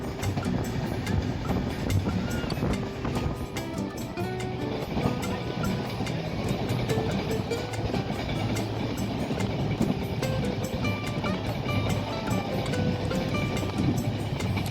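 A passenger train rolls steadily along the line toward Digha in West Bengal, heard from inside the carriage as a continuous loud rumble with rail noise throughout and no talking.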